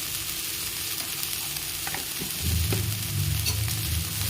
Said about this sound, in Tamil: போட்டுட்டு நல்லா வணக்கி விடுங்க